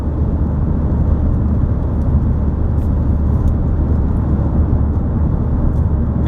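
Steady car traffic on a Columbus, Ohio freeway on a Saturday afternoon, a continuous, loud low roar of engines and tires with no breaks.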